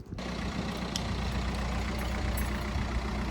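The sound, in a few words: Audi TT engine starting and idling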